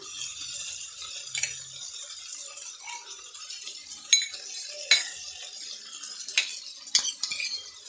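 Spices being fried in a pan with pepper and cumin powder for horsegram biryani masala, heard as steady stirring and scraping with clinks of a spoon against the metal, and no one speaking.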